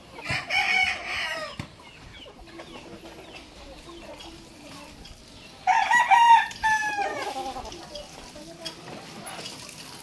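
Roosters of a street breed of gamefowl, with white kelsos among them, crow loudly in two bursts, and clucking and other farmyard calls fill the gaps; someone talks at times underneath.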